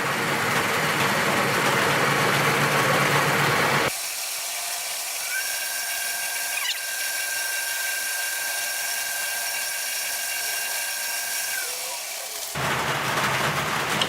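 A wood lathe spins a side-mounted hollow vessel at roughly 2,000 RPM while the wood is burnished, giving a steady, close machine whir with a thin sustained whine that holds through the middle and then drops away.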